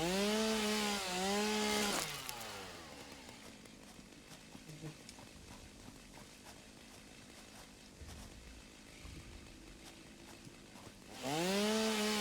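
A chainsaw in the video game Satisfactory, used near rocks, revs loudly at the start and again at the end with a rising and falling engine whine, and a quieter mechanical clatter runs between the two bursts.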